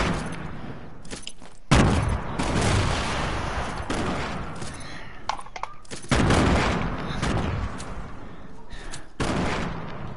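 Explosives detonating in a video game, heard as a rapid string of booming blasts and crackling gunfire-like bursts in several loud waves, near and dense, with no one talking.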